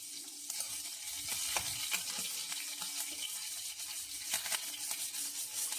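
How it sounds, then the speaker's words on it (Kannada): Cumin, mustard seeds and green chillies sizzle and crackle steadily in hot oil in a home kitchen, a soft, continuous frying hiss broken by small pops, close and with no talking. "ಜೀರಿಗೆ, ಸಾಸಿವೆ, ಆಮೇಲೆ ಸ್ವಲ್ಪ ಮೆಣಸಿನ್ಕಾಯಿ ಹಾಕ್ಕೊಂಡಿದ್ದೀನಿ"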